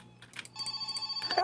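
A telephone rings in the video game My Summer Car, giving a short, quiet burst of steady, warbling electronic rings after a few faint taps.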